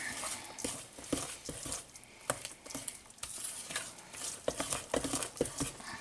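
Cornbread muffin batter mixed by hand with a broken-up egg, giving soft, quiet squishing and patting with scattered small wet clicks throughout, no talking.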